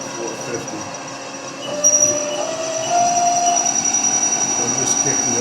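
A HAAS CNC lathe profiles a part at a constant spindle speed, giving a continuous mechanical hum with thin high-pitched whines and squeals from the cut that rise partway through and hold steady.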